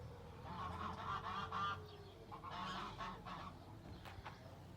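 Domestic geese resting at a Kastamonu Taşköprü hobby coop honk repeatedly in loud overlapping bursts, with a pause between two noisy flurries and duller poultry calls continuing underneath.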